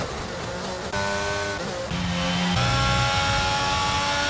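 Red Bull race car engine at racing speed, a loud continuous whine with rising and shifting pitch as gears change, steady and close throughout with no talk.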